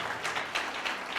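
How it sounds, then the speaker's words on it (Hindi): A church congregation applauds, a brief dense burst of many hands clapping together at moderate loudness with no voices. "जोर से ताली बजाएंगे प्रभु के।"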